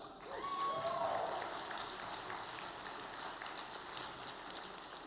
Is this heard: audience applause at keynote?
yes